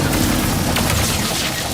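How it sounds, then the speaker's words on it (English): Shatter Bomb, a frag-type grenade, explodes in Ratchet and Clank: Rift Apart on PS5, giving a loud, dense, rumbling blast with crackling debris that fills the short moment without a break. "The Shatter Bomb is a frag-type grenade that deals a lot of damage to your foes."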